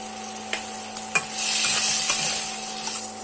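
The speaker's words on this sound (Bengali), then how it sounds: "এটাকে নাড়াচাড়া করে এবার একে একে বাকি মশলাগুলোও দিয়ে দেবো" Potatoes with turmeric and spices being stirred in a frying pan for a cabbage ghonto: a few spatula clinks, then a swelling, steady sizzle over a faint constant hum.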